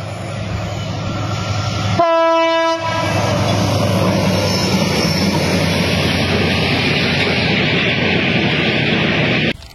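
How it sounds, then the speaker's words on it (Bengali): The Burimari intercity express train runs through the Mirzapur–Kaliakair section in Bangladesh, sounding one loud horn blast near the start before a steady, close roar of wagons rolling past continues to the end. "আন্তনগর Burimari express Mirzapur Kaliakair section through যাবে।"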